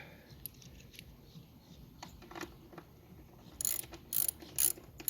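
Ratchet wrench driving a lag bolt home during a sailboat mast step install, several quick clicking bursts near the end over a low background hum, close and fairly loud.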